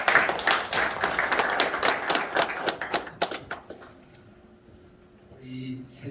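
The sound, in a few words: audience clapping as speaker comes forward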